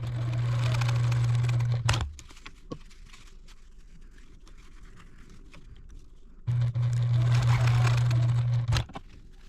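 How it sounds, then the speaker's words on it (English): A sewing machine stitching a fabric strip into a quilt block, running in two loud, steady whirring bursts of about two seconds each, separated by a quieter stretch of soft handling noises. "Now that we've sewn our little strip in the middle"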